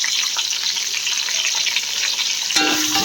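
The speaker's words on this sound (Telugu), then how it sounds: "కాజు వేగినాక పచ్చిమిర్చి, మిర్చితో పాటు బగారా ఆకు వేసుకోవాలి" Cashews and green chillies sizzle and fry in hot oil, a loud, close, continuous crackle with brief stirring and a clink near the end, no voices.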